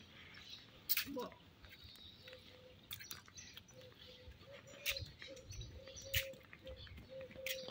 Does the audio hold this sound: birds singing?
yes